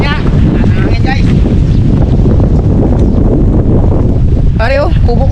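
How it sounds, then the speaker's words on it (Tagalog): Loud, roaring wind buffeting the microphone nonstop, with muffled voices briefly audible beneath the rumble. "Malakas ang hangin ah."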